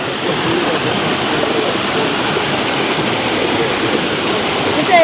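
River water rushes steadily in a dense, unbroken roar, loud and close, with no pauses or voices over it.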